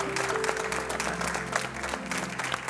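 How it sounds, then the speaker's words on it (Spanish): Steady applause from a group, dense and continuous clapping with a faint hum underneath, moderately loud throughout. "Un beso y un aplauso de cariño para Cándida."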